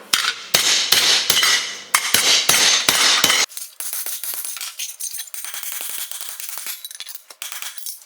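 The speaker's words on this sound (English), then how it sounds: "Let's fine tune this using a hammer and dolly and get this in place." A hammer and dolly shape the front bumper of a 1963 Thunderbird, with loud ringing metal blows in a quick rhythm for a few seconds, followed by lighter, rapid tapping.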